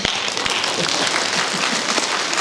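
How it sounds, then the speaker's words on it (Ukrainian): A concert audience in Truskavets applauds a Ukrainian folk singing group with dense, loud, steady clapping throughout, and no voices stand out. "Мені аплодують."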